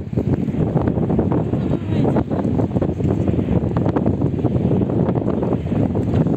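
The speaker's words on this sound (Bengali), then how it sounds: "উফ, এত বাতাস," Strong wind buffets the microphone at an airport, a loud, steady roar of gusty noise that runs throughout without a break.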